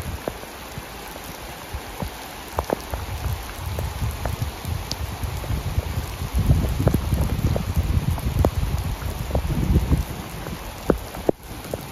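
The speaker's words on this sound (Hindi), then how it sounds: "तो अभी बहुत ज़ोरों से बारिश लग चुकी है" Heavy monsoon-style rain pours down outdoors in a steady dense hiss, with scattered nearby drops and splashes pattering on surfaces; the downpour swells louder midway, with no voices.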